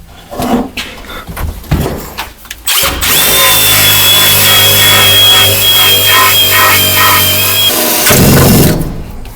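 A loud power drill drills out spot welds on a rusty Ford F150 truck, running steadily for several seconds, whining at a constant pitch, with clanks and rustling before and after.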